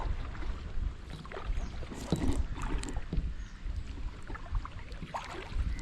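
A kayak paddled on water on the Konkan coast at Khavne, with irregular soft splashes and paddle strokes over faint wind, close and quiet.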